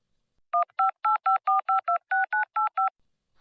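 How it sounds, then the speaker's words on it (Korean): Eleven touch-tone keypad beeps as a telephone number is dialed, short evenly spaced tones with brief gaps, clean and isolated against silence. "다이앤이 번호를 눌렀다."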